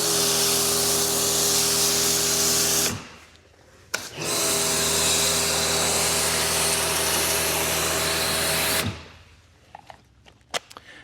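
A handheld sprayer or pressure washer hisses steadily during a car wash, delivering all-purpose cleaner around the tires in two long bursts of about six and five seconds, close and loud, with a brief pause between them.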